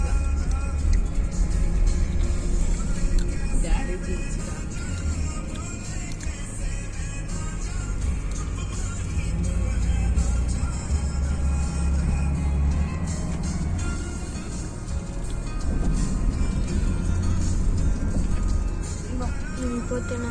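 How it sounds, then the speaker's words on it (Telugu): A truck passing on a road near Srisailam, a continuous heavy rumble of traffic under ongoing talk, with other vehicles going by steadily throughout. "ఒక ట్రక్ వెళ్ళిపోతుంది."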